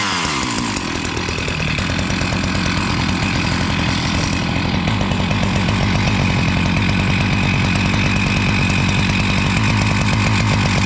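A Jonsered CS2152 chainsaw, just fixed with a new gas line, idles loud and close with a steady buzzing two-stroke drone that continues unbroken throughout.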